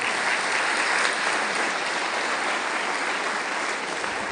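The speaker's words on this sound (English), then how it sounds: "Give her a round of applause" A crowd applauds a conference talk on company culture, with a dense, even wall of clapping from many people that holds steady and loud throughout.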